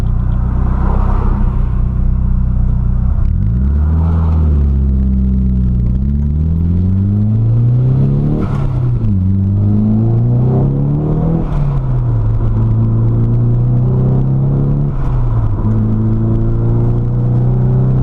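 A Nissan Silvia PS13 with an SR20DET engine drives along a road, its loud, close engine rumbling and climbing through several revving pulls and gear changes, with jerky clutch engagement, alone without talk.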